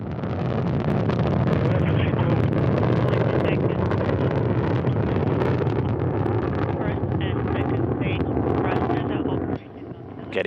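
Roaring thrust from a Soyuz rocket carrying the crewed Soyuz MS-04, its four strap-on engines firing in flight. The noise is a loud, steady, rumbling wash that holds for about ten seconds, then dips briefly near the end.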